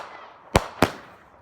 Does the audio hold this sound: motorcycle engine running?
no